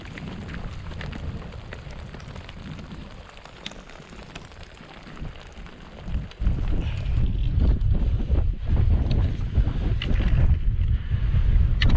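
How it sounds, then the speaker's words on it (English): Gusty wind on a Cairngorms mountain roars and buffets against the microphone, growing louder and rougher in the second half, with no voices. "A bit windy up here."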